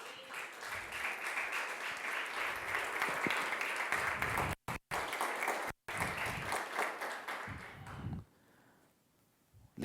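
A church congregation claps together in a sustained, even round of applause filling the hall for about eight seconds, with a couple of brief dropouts, then fading into near quiet.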